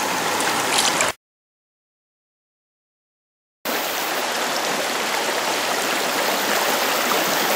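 Steady broadband rush of river water flowing where fine gold sand collects, close and loud, cut by a silent gap of about two seconds before the continuous flow resumes, with no voices.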